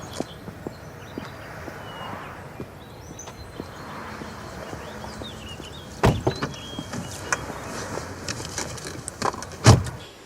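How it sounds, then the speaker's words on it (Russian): A car door opens and is slammed shut with a sharp thud, followed later by a second solid door slam, preceded by faint shuffling and movement inside a quiet vehicle. "давай, садись в машину"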